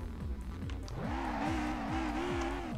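A BMW 135i with a swapped 2JZ-GTE engine in the SLRR video game, revving hard as the wheels spin, a rising engine note with repeated gear-like pitch sweeps and a whining tone, fairly close.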